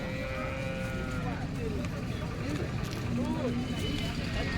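A cow lows a few times at moderate distance amid outdoor noise and people talking nearby at a cattle market in Sangola.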